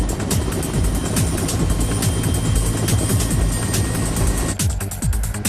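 A helicopter flying over construction of the Akashi Strait bridge in Japan, its rotor chopping in a fast steady rhythm under a continuous engine drone, loud and close throughout.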